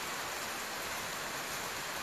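Light rain falls steadily at night in front of a forest house, making an even, close hiss that fills the whole stretch without any pauses or voices.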